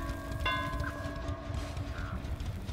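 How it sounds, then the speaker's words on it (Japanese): A single bell strike rings out in the horror game Dead by Daylight, its bright tone hanging and slowly fading over a low, steady background rumble. "鐘の音は聞こえるんで"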